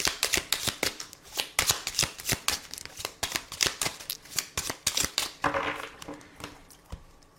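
Tarot cards are shuffled by hand up close, a rapid run of crisp flicks and slaps in an irregular rhythm, alone and fairly loud.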